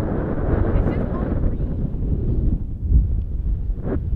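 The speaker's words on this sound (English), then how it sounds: "The wind is so freaking bad." Strong, steady wind on an exposed hilltop buffets the microphone with a loud, continuous low roar, and a voice speaks briefly under the gusts.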